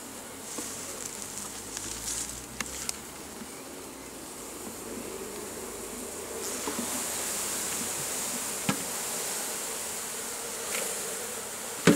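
Swarming bees drone around a makeshift hive built from super frames, an old floor and a stand, a dense continuous buzz heard up close outdoors with occasional nearer fly-bys.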